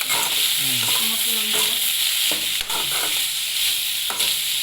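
Vegetables with turmeric and chili powder crackle and sizzle in a pan as a utensil stirs and scrapes through them, a close, continuous frying hiss with a few sharper knocks and no voices.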